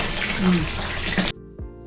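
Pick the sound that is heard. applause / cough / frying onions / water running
water running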